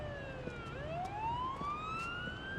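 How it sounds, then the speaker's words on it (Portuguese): A wailing ambulance siren in the video game Ambulance Life: A Paramedic Simulator sweeps up and down in pitch, fairly quiet and synthetic-sounding, over a low background rumble with a few soft clicks. "Vamos entrar aqui só pra desligar essa sirene chata."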